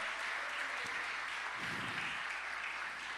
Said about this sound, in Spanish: Dale un aplauso fuerte a ese Dios todopoderoso, por favor.